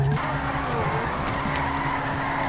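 Zentorno supercar drifting in GTA 5, a loud, close engine roar with a steady harmonic drone and hissy tire noise sustained throughout, with no voices.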